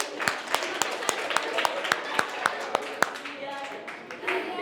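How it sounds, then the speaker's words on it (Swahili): A group of people clap in a steady, evenly spaced rhythm at an empowerment gathering for teen mothers, with about a dozen sharp hand claps close by before loosening into scattered applause with voices underneath. "Hebu mpigieni makofi."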